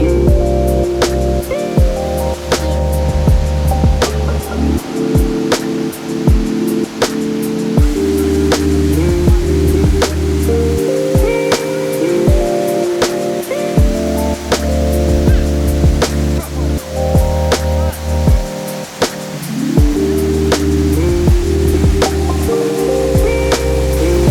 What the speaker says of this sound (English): Alfie, are we at the waterfall?